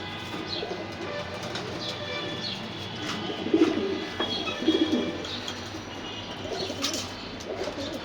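Pigeons cooing softly in low, repeated murmurs, with faint chirps and rustling around them in a busy outdoor loft.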